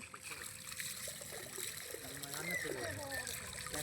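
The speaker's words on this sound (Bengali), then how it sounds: "পুরো গায়ে জল ঢাল, পুরো গায়ে, মাথার থেকে ঢাল" Water is poured over a person's body during a bath, quiet trickling and splashing with a voice talking over it.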